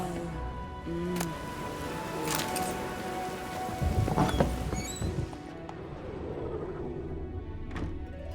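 Rain falls steadily in The Witcher 3, a soft wash of drops on surfaces with a low rumble. Brief clatters and faint distant voices rise over it midway.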